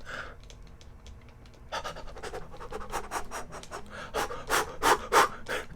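Player character panting while running in the video game Coral Island, a rapid rhythmic series of breathy huffs that grows louder and more pronounced partway through, close and alone with no talk.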